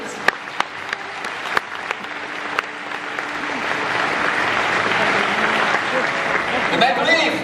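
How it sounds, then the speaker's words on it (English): Audience applause for Bulgaria at the 2018 International Chemistry Olympiad ceremony: a few sharp scattered claps at first, swelling into dense, sustained clapping from a large crowd with a faint murmur of voices. "A big applause for Bulgaria, please."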